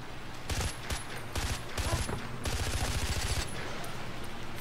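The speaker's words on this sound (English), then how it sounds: "Oh my gosh, they're shooting at me." Enemies open fire in the shooter game Far Cry 4, a series of rapid automatic bursts in clusters, fairly close and sharp, rattling on almost continuously after the first few volleys.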